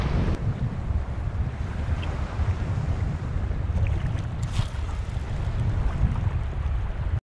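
Strong wind buffets the microphone on a tiny Maldives island beach, a loud, continuous low roar and rumble with surf and water sounds mixed beneath, steady for the whole stretch with no speech.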